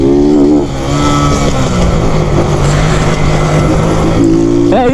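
A motorcycle engine revs hard and close, rising and falling in pitch across a few bursts of throttle, loud and dominant throughout with no talk.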